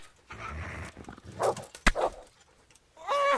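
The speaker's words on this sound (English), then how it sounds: "Somebody help! The dog's attacking him." Set in the Kingdom Come: Deliverance video game, a dog attacks a man, giving sharp barks and whimpers in short bursts between scuffling sounds and game noise, fairly close.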